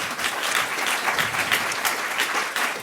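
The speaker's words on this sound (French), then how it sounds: "Je pense qu'on peut les applaudir." A conference audience breaks into sustained, fairly loud applause for partner organizations, dense clapping with no voices over it.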